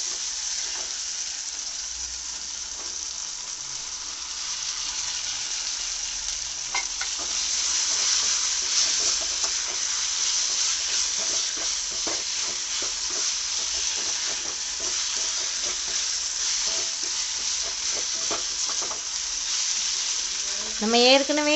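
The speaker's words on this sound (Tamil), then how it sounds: "இப்போ நம்ம வேக வச்ச மட்டன் பீசஸ் இதில் போட்டுக்கலாம்." Boiled mutton pieces sizzle steadily as they are stir-fried with tomatoes for Chettinad mutton chukka, a continuous close frying hiss with scraping stirs throughout.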